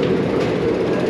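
A Seoul subway train runs with a steady, loud rumble and rail noise throughout, close by and without interruption.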